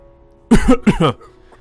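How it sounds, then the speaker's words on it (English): An old man in a video game, Kara no Shoujo, coughs twice in quick succession, harsh, close, loud and raspy, then quiet. "An old man sitting next to her is suffering from a coughing fit."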